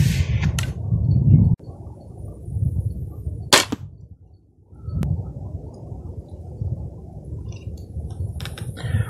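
Cheap crossbow bolts fired from a crossbow with anti-dry-fire safety, giving a few sharp, sudden snaps and thuds spaced apart over a steady low outdoor rumble, with no talking.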